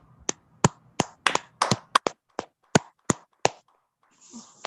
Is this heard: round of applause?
yes